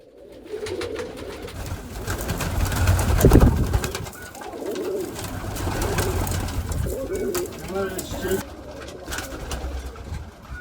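Domestic pigeons in a village loft coo repeatedly in soft, low, throaty rolls, close by, with fluttering wings and a voice speaking at times.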